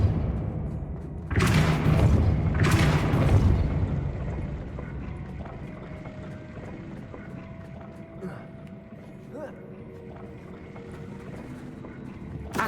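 The Depulso spell in the video game Hogwarts Legacy fires as two loud, forceful blasts in quick succession, each a broad whooshing burst that fades into a low, lingering rumble with faint ambient sounds.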